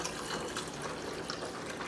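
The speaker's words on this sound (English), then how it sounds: "I'm going to take some mean green and I'm going to fill it probably about halfway." Mean Green cleaner pouring into the solution compartment of a carpet cleaning machine, a steady liquid gush and trickle heard up close with no talking.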